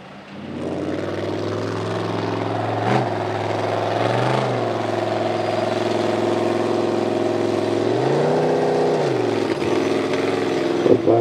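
A pulling truck at a truck pull roars continuously at close range, its heavy engine note swelling and dipping as the revs rise and fall through the run.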